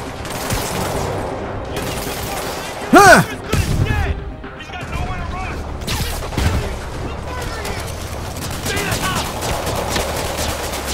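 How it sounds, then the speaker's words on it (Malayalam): Helicopter machine-gun fire from Spider-Man Remastered on PS5, heard as bursts of gunfire and crashing action sounds amid a busy game mix, with a player talking over much of it. "ആ ഹെലികോപ്റ്റർ നമ്മൾ അവിടുന്ന് വെടിയേക്കുണ്ട്."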